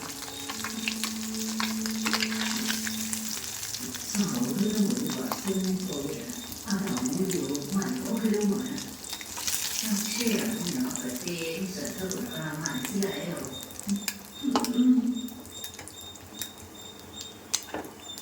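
Sardines frying in hot oil in a pan, a soft steady crackle and sizzle with scattered pops and scraping stirs, fairly quiet, with a person talking at times.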